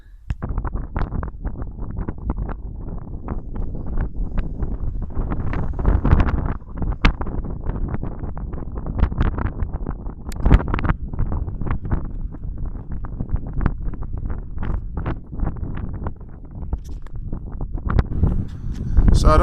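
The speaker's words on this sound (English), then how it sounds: "So I don't know whether you can hear me because of the wind" Strong gusty wind buffeting the microphone on Mount Ainos, Kefalonia, a continuous loud low rumble with sharp gust spikes for the whole stretch, with faint speech now and then underneath.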